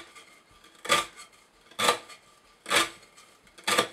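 A Microtech Socom Elite knife with an S35VN steel flat-ground blade slices through rope in four quick, crisp rasping cuts, evenly spaced about a second apart, close and clear.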